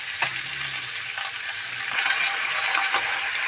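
Pechay stems and meat sizzle and fry in a hot pan, a steady close crackle with occasional stirring scrapes, no voices.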